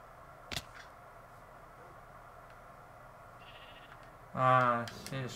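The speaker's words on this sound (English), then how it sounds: "Oh, I hear a sheep." A Minecraft sheep bleats once, loud and wavering near the end, after a sharp click and long quiet game ambience.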